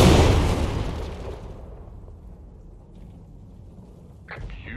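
An artillery gun fires in a VR training video game, a loud boom opening the clip and decaying into a long rumbling tail, with a faint clank near the end.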